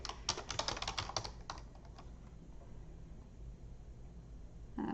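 A quick flurry of computer keyboard typing, rapid close key clicks in the first second or so, then a few scattered taps before fading into quiet room noise.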